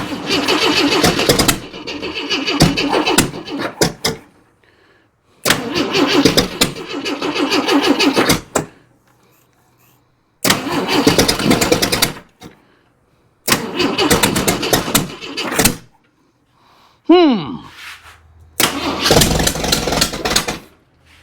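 A used Jeep 4.2 engine cranks loudly in repeated bursts of several seconds each, separated by silent pauses, trying but failing to catch; one short squeal appears between attempts.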